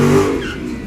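A V6 engine out of an Infiniti, in a car with a K&N intake at a drag launch event, gives a short loud close rev that quickly falls away.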